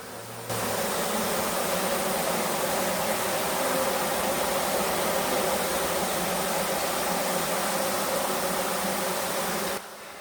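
A honey bee swarm packed inside a plastic tote gives off a dense, continuous buzzing hum, close and even, starting abruptly and holding steady for several seconds before cutting off, with no voices.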